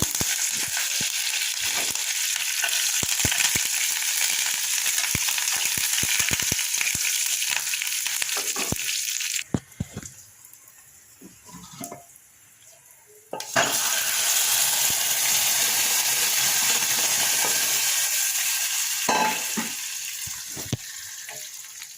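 Curry leaves sizzle loudly in a hot oil tempering of mustard seeds, lentils, cumin, chillies and garlic, crackling hiss with stirring clicks, dropping briefly to a quieter lull before the loud frying resumes.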